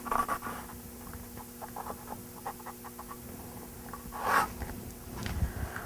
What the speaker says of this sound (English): all I'm drawing right now is the outline